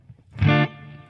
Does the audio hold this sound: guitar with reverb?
yes